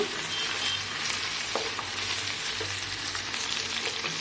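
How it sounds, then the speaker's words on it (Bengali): Vegetables including potato, carrot and cauliflower frying in oil in a kadai, a steady close hiss of sizzling with occasional scraping knocks as they are stirred, no talking. "সব সবজিগুলো নেড়ে চেড়ে একটু হালকা ভাজা ভাজা টাইপের করে নেব।"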